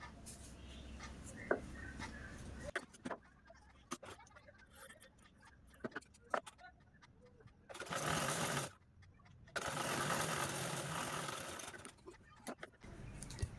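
A domestic sewing machine stitches fabric piping folded double along the inner edge, running in two loud sustained bursts between quieter handling clicks and rustles of cloth.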